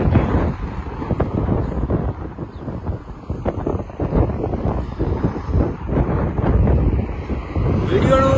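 Strong cold wind gusting steadily across an outdoor microphone, a continuous loud low rumble with buffeting that persists throughout.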